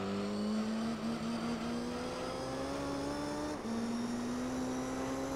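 Corvette with a naturally aspirated engine tuned toward 1,000 horsepower, racing in Gran Turismo 3: a loud, steady engine drone climbing in pitch through the gears, with one brief dip near the end, and no talk.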